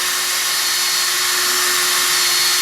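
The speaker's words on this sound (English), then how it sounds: "I'm running this drill pretty high speed" A cordless power drill whines continuously at high speed with a steady pitched hum and hiss, running alone without pauses, buffing a turntable dust cover.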